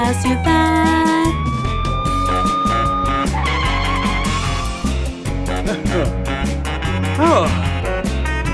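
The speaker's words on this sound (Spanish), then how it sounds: "La sirena del camión de bomberos suena, wow, wow, wow." A cartoon fire truck siren wails in a Spanish children's song, rising and falling tones over bouncy music with skidding and vehicle effects layered in.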